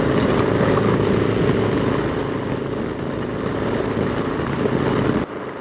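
A 2020 Harley-Davidson Low Rider S with a 114 engine and a Vance & Hines 2:1 upswept exhaust rumbles at a steady cruise on a twisty road, with strong wind noise throughout and a brief drop at the end.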